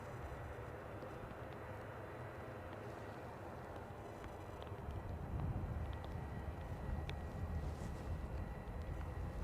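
An EasyJet aircraft taxiing out at Edinburgh airport in stormy, gusty wind gives a steady, broad engine rumble and whine that holds level, then swells somewhat louder in the second half.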